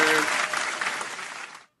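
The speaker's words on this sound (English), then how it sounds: "clap it up, clap it up, clap it up. Round of applause, man." Short round of clapping from a studio audience at the close of a show, fairly loud at first, then tapering and cutting off abruptly.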